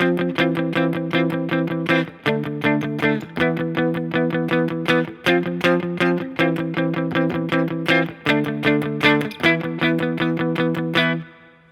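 Guitar strumming the chords of a song, a repeating pattern of sustained chords with rhythmic strums and brief gaps at each chord change, played alone and close.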